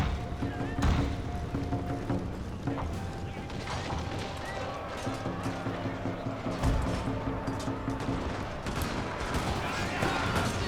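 Ranged units fire on ninjas in Total War: Shogun 2, with a dense rattle of gunfire and mechanical clatter. Battle noise and spoken voices run beneath it throughout.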